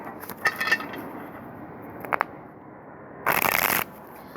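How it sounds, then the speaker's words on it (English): Tarot cards being shuffled by hand, with short riffling bursts near the start and middle and a louder, dense shuffle toward the end, close and clear with no talking. "shuffling this way, seeing the cards don't want to mix properly."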